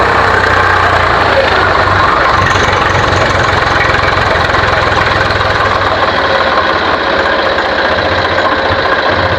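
A tractor stuck in a muddy village field runs its engine hard as it is pulled free, a loud, steady, close knocking chug that fills the whole stretch, with faint voices barely audible beneath.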